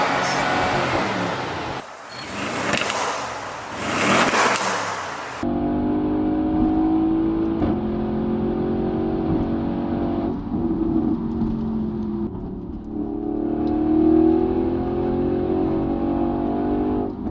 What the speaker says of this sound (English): Let's get inside and hear what it sounds like.